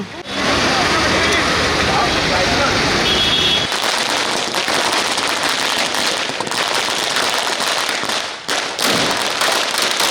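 A rapid crackling barrage of firecrackers bursts loudly and continuously at a street junction election-victory celebration in Tirur, then the popping thins into scattered cracks amid crowd noise.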